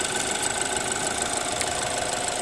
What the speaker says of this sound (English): That's a sound of an inline four,